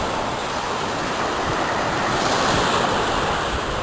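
Surf breaking on a Black Sea coast shore, a broad steady wash of waves mixed with buffeting wind noise on the microphone, loud and continuous without any voices.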